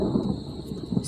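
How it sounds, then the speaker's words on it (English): Thunder rumbles low and steady through a heavy rainstorm, a dull continuous roll with no talking over it. "that's the thunder"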